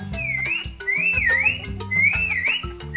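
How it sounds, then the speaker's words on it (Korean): A person whistles a wavering, sliding tune in a few short phrases, close and clear over a soft backing melody. "부르듯이 휘파람 부는 거예요."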